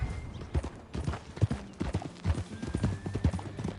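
Horse hooves gallop at a steady rhythmic clip-clop in Red Dead Redemption 2, moderately close and continuous across the stretch, with game ambience and faint background sounds beneath.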